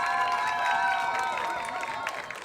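An audience applauds at a Congolese independence day celebration, a moderate burst of clapping and light cheering that slowly fades, fairly distant and alone without talk.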